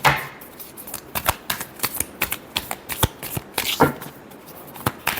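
Tarot cards being shuffled by hand, close up: a quick run of crisp riffling snaps and soft flutters in uneven bursts, with no talking.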